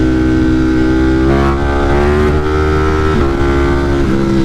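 A naked motorcycle making about 200 wheel horsepower pulls hard in third gear, its loud, steady engine howl rising and dipping in pitch as revs climb, with no talking.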